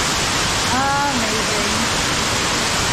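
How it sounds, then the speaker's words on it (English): Water pours at Rutledge Falls in a steady, loud broadband roar heard from very close, right in the falls, with a brief voice-like tonal sweep rising over the rush. "We are standing in the falls, guys. We are right here."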